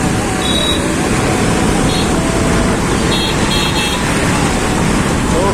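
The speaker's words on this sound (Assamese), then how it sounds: "মেইন ৰোডতো গোটেই গাড়ীৰ ভিৰ লাগি আছে মানে" Loud, continuous traffic on a crowded main road in Bangalore roars throughout, with a few short car horn toots sounding in the distance.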